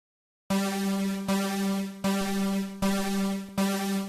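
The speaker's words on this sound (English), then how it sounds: "It's sort of this nice stabby chord sound." A bright, buzzy synth chord with a low-cut EQ struck five times in a steady rhythm, each hit sustaining with thin low end before the next stab.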